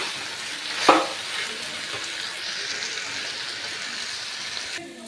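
Water is poured into frying spices with potatoes and carrots for a vegetarian curry: a sudden hissing burst, then a softer steady sizzle and bubbling for several seconds, no talking.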